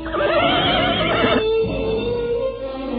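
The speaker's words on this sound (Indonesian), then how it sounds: "mendadak terdengar derap kuda mendekat" A horse whinnies and neighs up close in a radio drama scene, set among a crowd of horses as a rider pushes through, loud and continuous against a dense backdrop of other sound.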